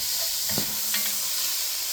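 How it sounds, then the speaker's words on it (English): Chili stirred in a pot with a wooden spoon, a couple of soft scrapes and thumps over a constant hissing simmer, close by, with no speech. "take our wooden spoon, mix it around,"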